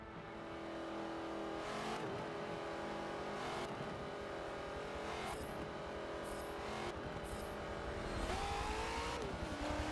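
Ford NASCAR race car engine in Forza Motorsport 7 at Lime Rock, a loud continuous close roar with repeated rising revs and sudden drops at gear shifts, no talking.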